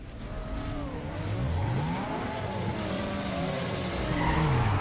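A street racing car in Need for Speed Underground 2 revs hard past its limit, the engine note climbing and wavering alongside tyre skids, loud and close throughout.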